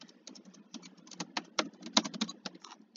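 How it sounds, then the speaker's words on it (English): Rapid clicking of a computer keyboard being typed on, a quick irregular patter of close, crisp keystrokes with no talking over it. "Sorry if you guys can hear my keys."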